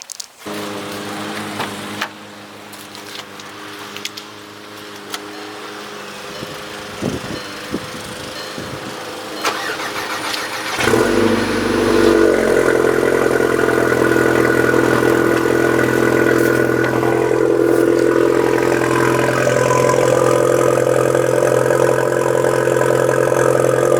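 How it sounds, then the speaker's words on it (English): A Mk6 car engine cold starting: quiet clicks and brief cranking, then the engine catches with a loud surge and settles into a high, steady idle with a few revs, close by. "And a few revs on the cold start."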